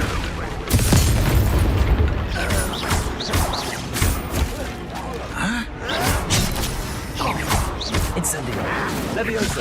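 Fire spell blasts in Hogwarts Legacy, loud booming bursts and crashes repeating through a chaotic battle, with grunts and voices mixed in.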